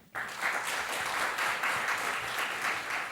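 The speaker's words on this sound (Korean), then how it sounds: "자, 박수 한번 쳐줘." A church congregation breaks into applause at a Sunday service, a dense, steady burst of many hands clapping that starts abruptly and continues for a few seconds.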